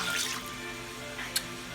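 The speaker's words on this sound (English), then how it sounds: "This is 3 cups of rice, so I'm gonna put 3 cups of water." Water pouring from a tap into a pot holding three cups of rice, a continuous splashing rush at moderate level with a small bright splash near the end.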